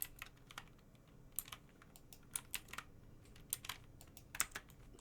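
Computer keyboard keys tapped for Blender shortcuts, irregular crisp clicks close by, single presses and quick pairs scattered over a quiet background.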